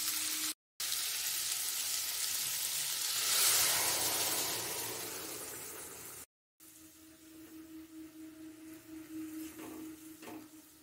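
Chicken mince frying in a pan hisses loudly and steadily, then a splash of water is added and the sizzle drops to a softer, bubbling simmer with faint stirring.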